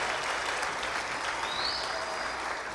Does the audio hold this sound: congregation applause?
yes